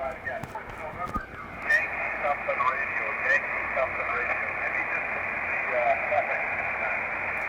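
HF radio station audio relayed through a phone from a remote RigPi station server, a steady band-limited stream of radio voice and noise running continuously at moderate level.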